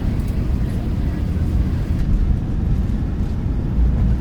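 Simulated PMDG 737 jet engines spool during takeoff in Microsoft Flight Simulator 2024 with a Qantas livery, a steady, muffled low roar that stays fairly quiet and continuous.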